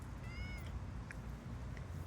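A cat that has just caught a bird gives one short, fairly faint meow early on, over a steady low background hiss, with no talking.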